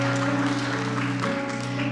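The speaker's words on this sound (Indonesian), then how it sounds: "Dan Ibu, tepuk tangan bagi Tuhan." Audience clapping at a church gathering, a dense continuous patter of applause with a sustained musical tone underneath throughout.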